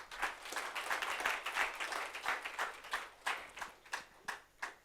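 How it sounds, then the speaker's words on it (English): Sparse clapping for a delivery team at a corporate gathering, a small group clapping irregularly at moderate distance, thinning out into a few separate, distinct claps toward the end. "Let's give them a round of applause."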